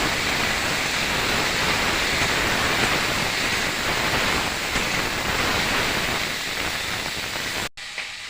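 Cabbage and mixed vegetables frying in a pan for khichuri, giving a loud, dense, continuous sizzle that holds steady throughout and then cuts off abruptly near the end.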